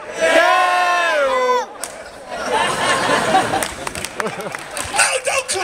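At a Belfast hip hop cypher event, a crowd loudly shouts the name Dayo in one sustained, pitched group call, then breaks into scattered cheers, chatter and shouting.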